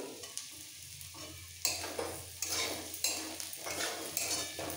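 Potatoes fry with spices in a pan for an aloo-cauliflower masala, a soft sizzle under rhythmic metal spoon scrapes and knocks against the pan, close and fairly quiet, with no speech.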